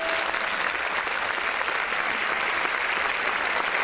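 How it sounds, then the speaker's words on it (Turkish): Audience applause at a Turkish folk music night concert, a steady, dense wash of clapping from a large crowd, continuous and loud throughout. "Ben bir alkış rica ediyorum"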